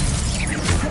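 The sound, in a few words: Expelliarmus spell cast in Hogwarts Legacy, from a video game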